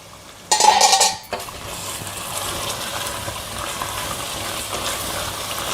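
A lid clanks off a pot of simmering potato gravy (aloo gravy) in a home kitchen: a brief loud metallic clatter, then a steady soft bubbling hiss carries on alone.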